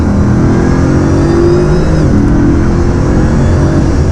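A Bugatti Veyron at full throttle, its engine roaring loud and steady as it accelerates hard, a dense sustained drone heard close with no talk.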